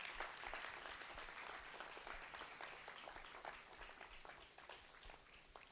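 Sustained applause fills a room at the Innovate Barbados 2016 conference in honour of the conference coordinator, a quiet, even wash of many clapping hands with no talk over it.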